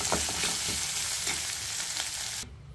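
Tamarind and dande cooking over a high flame for chutney, a steady close sizzle with stirring scrapes that stops abruptly near the end.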